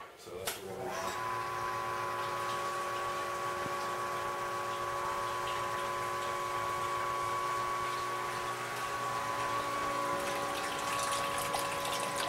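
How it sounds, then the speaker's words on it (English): Water pumps and recirculates through a homebrew system's cooling coil from a hot liquor tank vessel, a steady gushing flow under a constant mechanical hum from the pump, beginning with a short clunk. "So this is recirculating out of this vessel and in through this coil and all the way back to itself."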